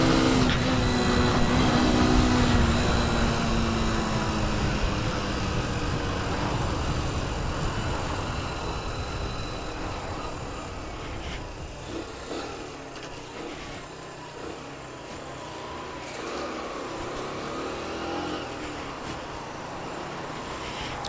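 A Sinnis Max2 125cc motorcycle engine drones steadily at close range, loudest at first, its tone shifting as it gathers speed with no talk over it.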